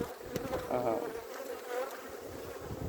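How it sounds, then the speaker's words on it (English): A honeybee swarm being transferred buzzes in a dense, steady drone close by, with individual bees rising and falling in pitch over the continuous hum; no talking. "So it's one of the few times I could say I caught a swarm and I know the queen is from last year."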